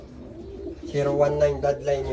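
A purebred Jansen pigeon hen coos close by in a loft, with a few rolling coos starting about a second in, while someone talks over the start.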